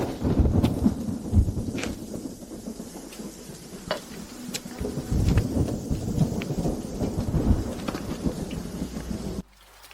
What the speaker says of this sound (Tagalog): Ulan, bumuhos ka. Bumuhos ng mas malakas, mas mabuti.